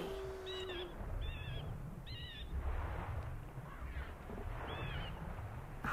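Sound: wiggly bird noise in Majora's Mask video game

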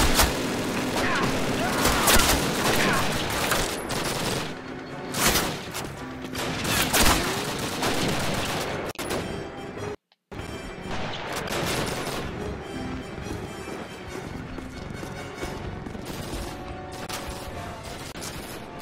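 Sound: gunfire in video game Call of Duty campaign

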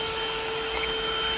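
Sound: handheld car vacuum cleaner running with brush attachment

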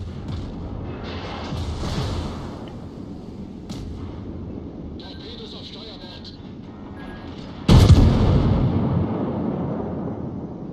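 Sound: naval artillery salvo of six shells, World of Warships video game

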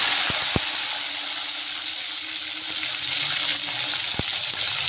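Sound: tomato and capsicum frying in hot oil

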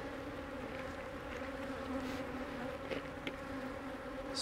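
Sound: honey bees buzzing at an opened beehive

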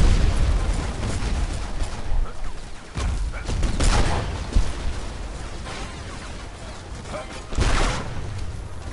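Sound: many grenades exploding in Battlefield Heroes video game

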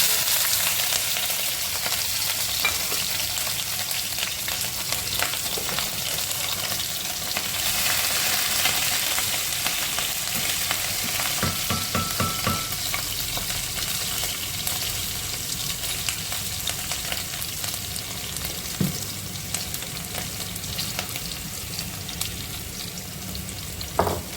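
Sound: green chillies frying in a pan

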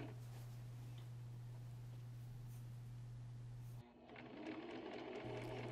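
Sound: sewing machine stitching a garment

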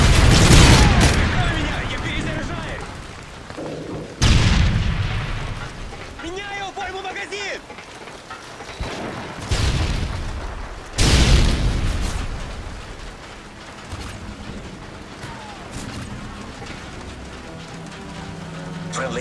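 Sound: Predator missile explosions, from video game MW3

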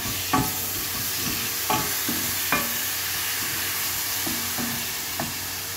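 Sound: chopped tomatoes frying in a pan

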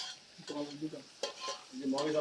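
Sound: marinated meat frying in wok

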